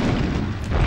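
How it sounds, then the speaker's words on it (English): A deep, rumbling explosion from The Legend of Spyro: A New Beginning, a single dense low boom filling the short moment with no talk over it. "The explosions!"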